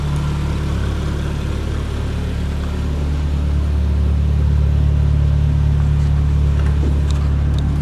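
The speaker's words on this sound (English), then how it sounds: "All right, she's idling a lot better now." A car engine idles smoothly and steadily, a constant low rumble nearby with no talking over it.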